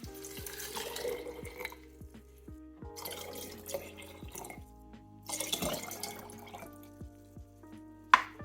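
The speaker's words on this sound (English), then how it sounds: "add about 3 cups of water to my goji berries" Water poured over goji berries in a kitchen, about three cups, heard as trickling, dripping pours in three separate bursts with quiet gaps between, ending in a sharp clink.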